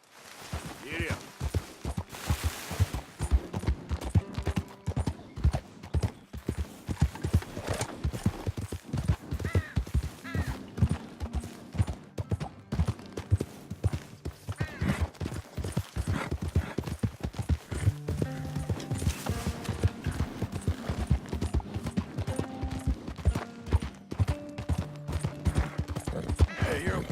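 A horse gallops in Red Dead Redemption 2, with rapid, rhythmic hoofbeats that continue throughout alongside a light game music score, moderately loud and close, with occasional brief game sounds layered over the running.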